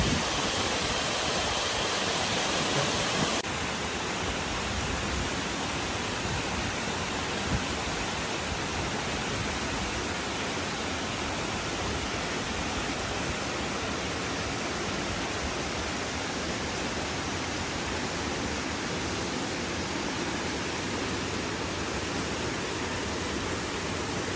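Steady broadband rush of a waterfall near post 2 on Mount Halau-Halau, a dense continuous roar that stays constant and fairly close throughout with no voices over it.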